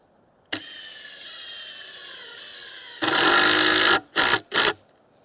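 A drill driver drives screws into a stand for a water container: a steady motor whine runs for about two and a half seconds, then louder full-power bursts, then two short final pulses.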